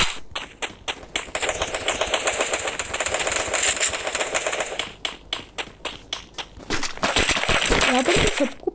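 Gunfire in the mobile battle royale game Free Fire: dense rapid automatic bursts crackle through most of the stretch with brief pauses, then resume loudly near the end.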